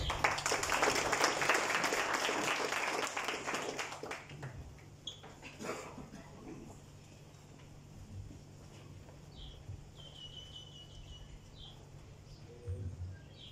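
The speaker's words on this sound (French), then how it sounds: "On peut l'applaudir." Audience applause at a sustainability forum in Mauritius, a dense burst of clapping for about four seconds that fades out, leaving quiet room ambience with faint birdsong.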